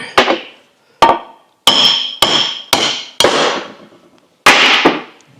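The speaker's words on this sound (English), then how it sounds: "First, I will drive the bearing back out." Heavy hammer blows knock a pilot bearing out of a flywheel during a Scout clutch job, seven sharp metallic strikes spaced irregularly, loud and close with short ringing decays and no talk.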